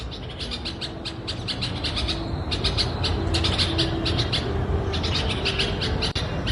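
Many small birds chirp and tweet in quick overlapping bursts over steady background noise, close by and fairly loud, with no talking.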